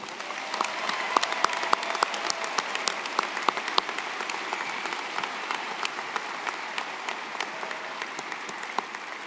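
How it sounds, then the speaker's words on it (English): A high school graduation audience applauds in a large hall, a steady dense patter of many hands clapping with a few sharper claps standing out, slowly tapering toward the end. "Please give them a round of applause."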